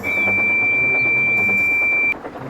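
Percy the tank engine in a Roblox game gives one long, steady, high whistle that holds for about two seconds and then cuts off sharply.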